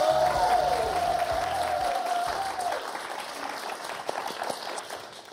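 Studio audience on the French game show Motus applauds host Thierry Beccaro, a loud, sustained crowd clapping that opens over a bright musical jingle and gradually thins out.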